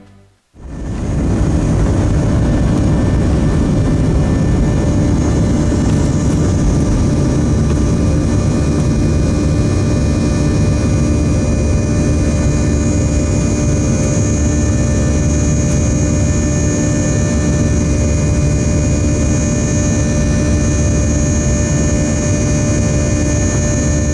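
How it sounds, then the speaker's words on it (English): Passenger jet engines roar loudly and steadily at takeoff power after a sudden start, a powerful continuous rumble with a high whining tone running through it, no voices. "Engine roaring sound."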